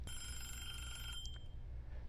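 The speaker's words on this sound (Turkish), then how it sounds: "şu an telefon çalıyor" Telephone ringing in the horror video game Who's at the Door?, a thin electronic bell trill heard faintly over a low rumbling background, a short burst that stops partway through.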